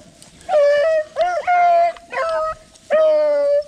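Beagle hounds baying while chasing a rabbit in a field, four or five long, loud, nearby howling bays in quick succession with short gaps between them.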